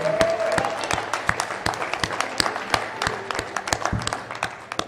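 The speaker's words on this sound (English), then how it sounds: "big round of applause for them for coming this way" Audience clapping welcomes a visiting team from Almere at a squash league match in a stadium, a moderate crowd applauding steadily with sharp individual claps standing out, beginning under a brief voice and continuing alone.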